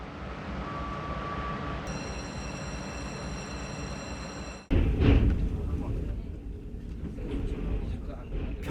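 A train travelling from Dandong, China, to Pyongyang rumbles continuously, a loud rolling drone that grows heavier and rougher partway through, with no talk.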